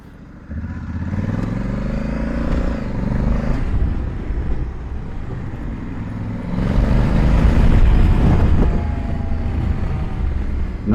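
A 2020 Honda Africa Twin DCT motorcycle rides along, its engine a steady loud drone under heavy wind buffeting, swelling louder in the second half as it climbs.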